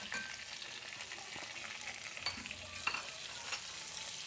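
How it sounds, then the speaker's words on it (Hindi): Raw mango pieces fry in a pan with crushed chilli, salt and turmeric for an instant pickle, giving a steady close hiss of sizzling with light stirring scrapes and small clicks throughout, no voices. "ये डाल के हम इसको 5 मिनट तक भूनेंगे।"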